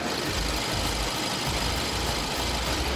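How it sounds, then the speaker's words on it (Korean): A gasoline mid-size sedan engine idles steadily and smoothly with the hood open, heard up close with a constant even hum and no voices. "영상으로 엔진 소음 한번 담아보도록 하겠습니다"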